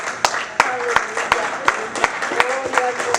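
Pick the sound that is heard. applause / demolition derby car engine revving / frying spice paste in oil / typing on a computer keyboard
applause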